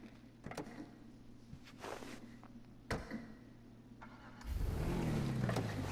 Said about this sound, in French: Ici nous avons une Audi, franchement très sympa aussi, que je kiffe. Et là on va écouter le bruit du moteur.